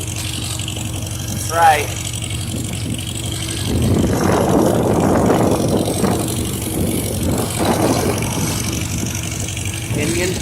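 A 1951 Farmall H tractor engine runs steadily through a New Year's Day ride, a continuous low rumble with rattle that swells midway, while someone talks over it.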